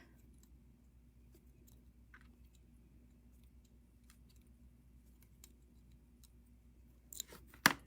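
Wire cutters trim a wire end on a flat herringbone wire-wrapped earring, a couple of sharp, close snips and clicks at the very end after near silence.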